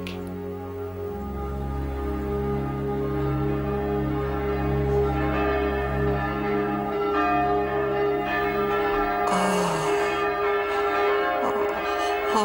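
The bells of Saint-Pierre church ring at Easter, sustained resonant tolling with layered overtones that blend into a continuous wash, moderately loud and unbroken by speech.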